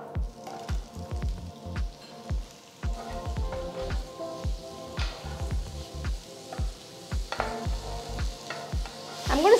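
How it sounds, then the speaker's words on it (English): Mushroom slices sizzle in melted butter in a pan, with repeated spatula scrapes and stirring clatter in an uneven rhythm over a soft, steady frying hiss. "So first we're going to stir fry a cup of mushroom slices."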